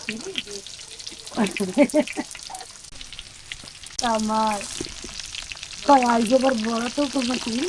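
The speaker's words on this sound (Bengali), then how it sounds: "এই আমি ভেন্ডি ভেজে নেব দিয়ে দিলাম" Okra (bhindi) frying in a pan gives a steady background sizzle, while voices talk loudly over it in bursts for much of the time.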